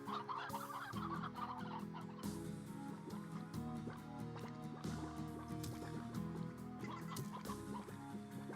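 Chickens clucking in the Slime Rancher video game, several birds cackling continuously over a steady droning game music bed, moderately loud with no voices.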